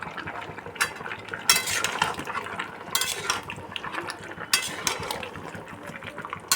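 Chicken and potatoes are stirred and fried in a pan, with a soft sizzle under repeated scraping strokes of a utensil against the metal, in bursts a second or so apart.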